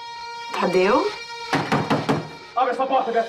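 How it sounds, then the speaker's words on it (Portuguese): Someone pounding on a closed bedroom door, a quick series of hard, close thuds mixed in with a loud, agitated voice shouting before and after the knocks. "Abre essa porta, Beatriz"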